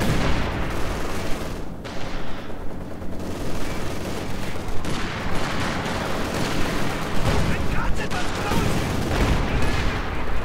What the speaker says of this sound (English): we're hearing a bombing run going in somewhere